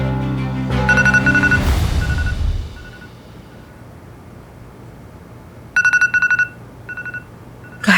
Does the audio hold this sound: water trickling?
no